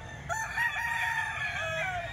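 Close, loud crow from a McLean Golden Boy Sweater gamefowl rooster, one long sustained call with steady harmonics held for nearly two seconds over a faint low hum.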